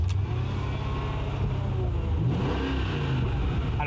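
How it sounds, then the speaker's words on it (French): A Mercedes CLK DTM Edition V8 rumbles loud and close, revving with a deep, throbbing low-end pulse that rises and swells partway through. "il est temps d'entendre ce fameux V8"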